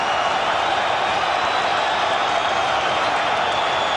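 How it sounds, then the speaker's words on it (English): A boxing crowd at the Evander Holyfield vs George Foreman fight makes a dense, continuous roar between rounds, loud and sustained with no clear breaks. "The crowd is chanting between rounds."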